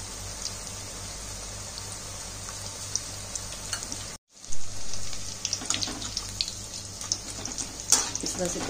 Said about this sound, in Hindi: एक साथ आप काफ़ी सारी भजियाँ तल सकते हैं अगर बर्तन बड़ा है।